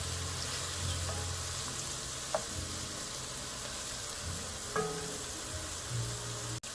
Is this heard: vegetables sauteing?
yes